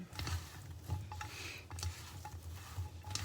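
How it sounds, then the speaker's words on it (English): A mixture for French fries is stirred by hand with fingers, giving soft, steady squelching and rustling close up, with faint clinks, and no one talking. "Stir it all up."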